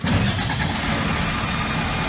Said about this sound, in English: You can hear the truck running.